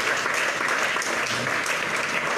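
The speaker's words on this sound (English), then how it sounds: "Please, a round of applause for my people." Dense, steady applause fills a hall at a panel discussion, a full crowd clapping continuously and loudly with no voices on top.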